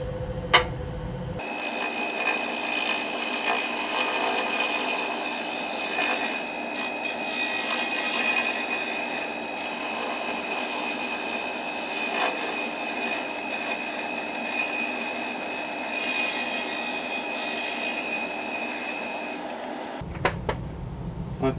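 A wood lathe spins a re-turned cherry pot at 700 RPM with the tailstock brought up for support, giving a steady, continuous whir that runs unbroken for about twenty seconds without talk.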